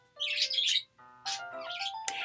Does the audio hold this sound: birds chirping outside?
yes